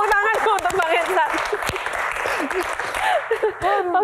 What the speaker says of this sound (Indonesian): Tepuk tangan untuk Bang Hensat.